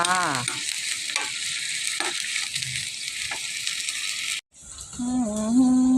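Spicy pork stir-fried in a pan, loud close sizzling with scraping strokes of a spatula at a rough rhythm, then a brief cut and a whining mechanical tone.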